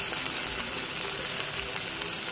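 Turmeric, salt and tomato fry in a pan for Matar ki ghugni, giving a steady, close, hissing sizzle that holds evenly throughout with no talking.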